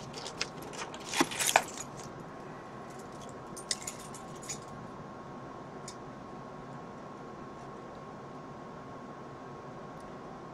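Keys jangle briefly and close by in a quiet workshop while a hot-wire foam cutter is being made, a short burst of metallic rattling near the start, then faint clinks over a low steady hum.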